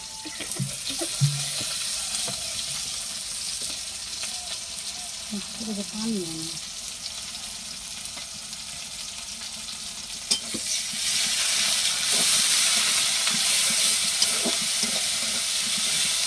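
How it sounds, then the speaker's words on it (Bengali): Garlic, cumin and ginger paste frying in a pan for a bottle gourd curry, with a continuous close sizzle and stirring scrapes that grow louder and brighter toward the end. "মশলাটা ভালো করে বাজিয়ে নেবো"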